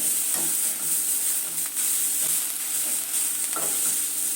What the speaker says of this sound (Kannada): ಸ್ವಲ್ಪ ಈರುಳ್ಳಿ ಮೇಲೆ ಚೆನ್ನಾಗಿ ಫ್ರೈ ಮಾಡ್ಕೊಳ್ಳೋಣ ಎಣ್ಣೆಯಲ್ಲಿ.